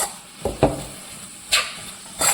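Four medium onions, salted, cooking in a pan on a stove, heard as soft sizzling with a few short stirring scrapes and clinks of a utensil against the pan, close and moderately quiet, with no talking.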